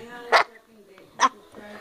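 A dog indoors gives two short, sharp barks about a second apart, close and fairly loud, with quiet room sound between them.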